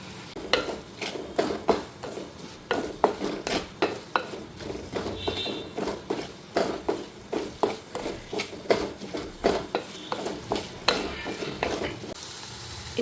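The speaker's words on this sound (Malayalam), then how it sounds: "ഇനി ഇതിലേക്ക് കുറച്ച് വെളുത്തുള്ളി ഇഞ്ചിയും ചതച്ചത് ഇടുന്നുണ്ട്" Crushed garlic and ginger sautéed in a pan, steady sizzling broken by repeated scraping strokes of a spoon against the pan at an uneven rhythm, close and clear, with no voices.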